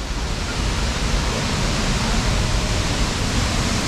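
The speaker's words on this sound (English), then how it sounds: "That is a big waterfall." Big Tibumana waterfall in Bali, a steady, dense roar of falling water heard close and loud throughout, with no breaks or other distinct sounds.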